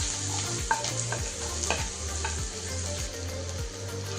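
Chopped onion with green chilli and cumin frying in oil in a pan, a steady sizzle broken by repeated scraping strokes of a spatula stirring at a regular rhythm.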